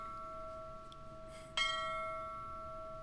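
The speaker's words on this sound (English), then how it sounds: "This bell's gonna ring a while." A single bell strike rings out partway through, a bright metallic clang that slowly decays over a steady tonal drone in the MS-DOS game Ripley's Believe It or Not!: The Riddle of Master Lu.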